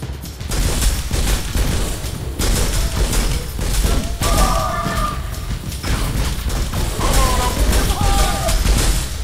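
Heavy weapon fire in Turok booms in dense, loud volleys over a constant game soundscape, with someone talking over parts of the action.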